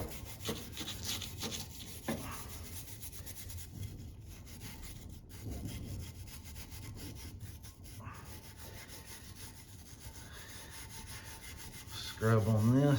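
A cast Chevy 350 V8 cylinder head is scrubbed with a hand tool, giving steady rasping back-and-forth strokes up close for several seconds that grow louder near the end.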